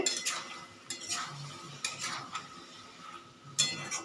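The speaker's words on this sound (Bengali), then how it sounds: "মশলাগুলো ভালো করে কষিয়ে নেব চিকেনের সাথে।" Spices being stirred and sautéed with chicken in a pan over medium gas for a chicken curry, with intermittent scraping strokes of a spoon against the pan over a faint sizzle, close and quiet, no voices.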